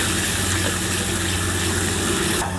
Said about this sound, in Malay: letak air